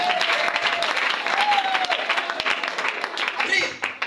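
Congregation applauding and cheering for Jesus at a faith gathering, a steady dense wash of clapping with voices mixed in, continuous and lively throughout.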